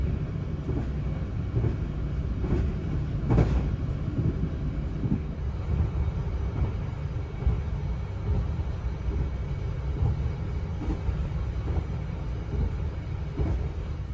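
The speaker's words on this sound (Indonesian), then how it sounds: "Perjalanan kereta api yang berhenti di stasiun Kebumen ini rame banget ya teman-teman." Inside the Madiun Jaya passenger train, a steady low rumble of rolling carriages and wheels on rails continues throughout, with some wind noise and no talking.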